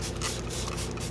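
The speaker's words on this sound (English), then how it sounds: "you take it and you spray the alcohol" Alcohol sprayed from a spray bottle onto a paper plate gives a short, steady hiss of mist lasting just over a second, close and fairly soft.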